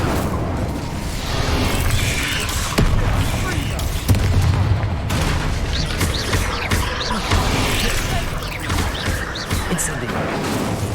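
Spells in the Hogwarts Legacy video game burst into a string of heavy booms and crackling blasts, loud and close, with a voice calling out over the repeated explosions.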